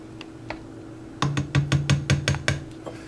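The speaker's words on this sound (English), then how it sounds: "stirring once again" Bermuda-style fish chowder with dark rum stirred in a pot: a low steady hum, then a quick series of sharp, evenly spaced knocks as the spoon strikes the pot.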